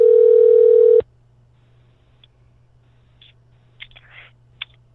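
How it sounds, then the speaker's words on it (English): A steady telephone tone sounds loudly on a call for about a second and then cuts off abruptly, leaving near silence with a few faint clicks and noises. "Do you hear the ringing?"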